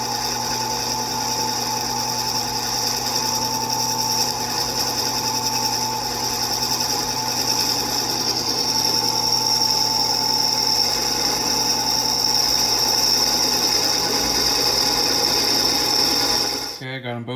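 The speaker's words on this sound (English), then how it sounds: "I got a battery operated DeWalt grinder. It's not perfect. It takes a lot. It takes like 3 batteries to cut" A battery-powered DeWalt angle grinder cuts through metal on a lawn stripe kit, a loud continuous high-pitched whine that runs steadily for well over fifteen seconds before abruptly cutting off.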